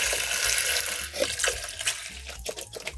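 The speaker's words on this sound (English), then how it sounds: "And now to that, we're gonna add 2 cups of water." Water pours steadily from a container into a pot of lentils already covered in broth, making a continuous splashing, gurgling rush with a few brighter drips near the end. No voices.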